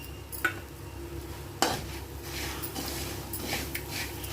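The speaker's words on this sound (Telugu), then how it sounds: "ఇలా క్రిస్పీగా వేగాలన్నమాట చూడండి సౌండ్ ఎట్లొస్తుంది" Potato pieces fry crispy in a pan with a steady soft sizzle, punctuated by a couple of sharp clinks of a utensil stirring against the pan, close and moderately quiet.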